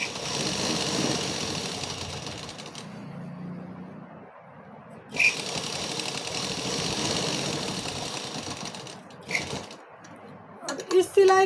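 Domestic sewing machine stitching fabric, a steady close mechanical whir with short pauses and restarts, someone talking over parts of it.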